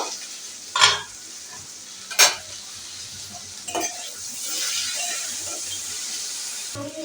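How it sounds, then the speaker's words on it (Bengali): Okra (bhindi) frying in a pan over medium heat, with three distinct scraping stirs early on and a hissing sizzle that swells and holds steady afterward. "চুলোর তাপটা একদম মিডিয়াম আছে থাকবে এখন একটু নেড়ে দেবো"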